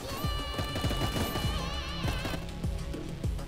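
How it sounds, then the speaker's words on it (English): Rapid gunfire and explosive impacts from the Tower Defense Simulator video game in the Wasteland map, dense overlapping shots and bursts over steady game music and effects, loud and continuous throughout. "I want to hear the gunshots though."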